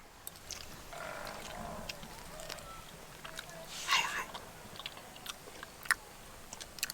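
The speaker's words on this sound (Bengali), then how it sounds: "কামড় দিচ্ছি" Someone bites into a rose-shaped pitha filled with date palm jaggery syrup, giving a quiet crisp crunch midway followed by soft chewing and small mouth sounds, with a voice murmuring nearby.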